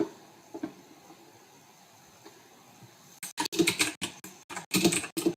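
Rapid clattering keystrokes on a computer keyboard start after a few seconds of quiet room tone, coming in quick uneven bursts close to the listener.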